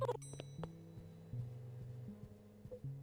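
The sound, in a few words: bell ringing in a video game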